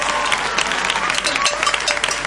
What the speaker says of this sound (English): Oh, clap for yourself.